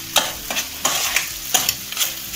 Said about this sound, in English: it will be easy to mix like this